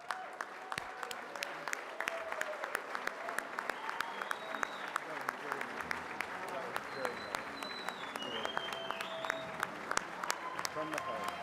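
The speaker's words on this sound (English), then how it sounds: "Please join us by standing and applauding Jim as we honor him with this" At an awards show honoring a lifetime achievement, a standing audience claps steadily and densely. Continuous full-room applause carries on throughout, with scattered whoops and voices mixed in.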